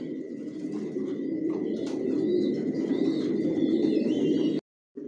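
Close, continuous cooing from captive racer pigeons, layered low calls with a few faint chirps, cutting off abruptly just before the end.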